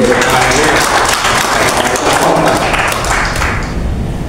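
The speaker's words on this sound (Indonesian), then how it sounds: "kita tepuk tangan dulu untuk" A crowd applauds steadily and loudly at a Christmas celebration in a government building, a dense wash of clapping that fades slightly toward the end.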